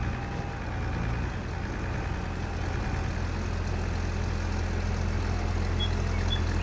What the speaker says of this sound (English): this tractor really sounds good